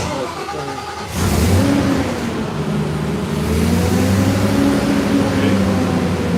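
A wood chipper's engine cranks over, catches at about one second and then runs and revs with a rough mid-pitched drone, loud and close, while someone talks over it.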